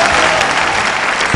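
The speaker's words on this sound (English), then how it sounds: "It's your applause," Loud, dense crowd applause for couples at a world ballroom dancing championship, filling the short stretch evenly.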